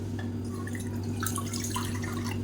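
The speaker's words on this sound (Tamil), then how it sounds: "இதில் வந்து மெஷரிங் கப்பில் ஒரு கப் அளவுக்கு தண்ணி சேர்த்துக்கலாம்" Water trickles from a measuring cup into a cooking pan, a faint, steady splashing and dribbling sound over a low constant hum in a kitchen.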